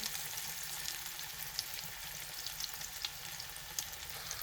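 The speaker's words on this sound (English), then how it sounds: "So we're just going to deep fry this a little bit just to get that crust on top." Chicken parmesan deep frying in hot oil to crisp its crust, a steady, even sizzle with soft bubbling crackles throughout, no voices.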